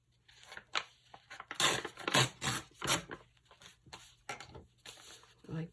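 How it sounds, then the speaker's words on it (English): Scissors snipping through a paper scrap for a junk journal page, a series of close, crisp cutting strokes in irregular bursts with quiet paper rustling between them, no voices. "So what I'll do here, because it's too big, is I will cut it in half or thereabouts."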